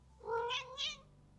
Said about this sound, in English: My cat is very chatty. He's meowing a lot.